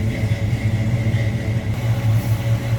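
A 1967 Chevrolet Nova SS idles steadily nearby, giving a loud, even, low rumble with a smooth pulse and no talking.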